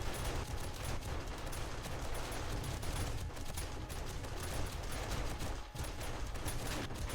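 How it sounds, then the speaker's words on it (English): SMG turrets in 7 Days to Die fire a dense, nonstop rattle of automatic gunfire during a horde night, loud and continuous with a brief dip near the end. "Those SMG turrets do put in some work over on the ladders."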